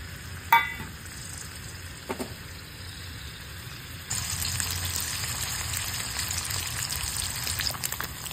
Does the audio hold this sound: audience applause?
no